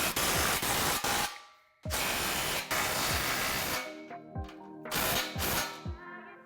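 A power tool tightens the exhaust clamps on a Ford Mustang GT350 fitted with an MBRP 3-inch stainless steel resonator delete pipe. Loud, close bursts of hissing, rattling impact whirs stop and start several times.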